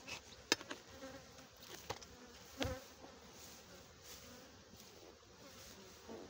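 Honeybees hum at a hive entrance in a continuous, close buzzing drone, with a few sharper passes of individual bees flying near and some faint outdoor background noise.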